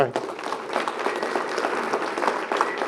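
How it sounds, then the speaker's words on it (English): An audience at a Chatham County small business gathering gives a warm round of applause, a continuous burst of many hands clapping at close range, fairly loud and unbroken. "y'all give Marjorie a round of applause"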